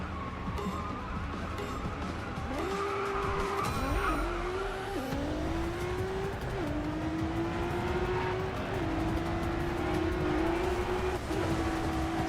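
A BMW M2 race car in the Racing Master game skids and squeals its tyres through a long drift, its engine note climbing and shifting over a constant loud roar with no talking.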